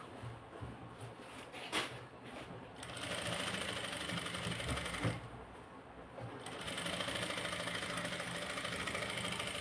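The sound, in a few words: sewing machine stitching a blouse sleeve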